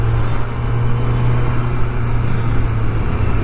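Steady road traffic in a busy street area: a continuous low rumble of passing cars and engines, even in level throughout, with no voices.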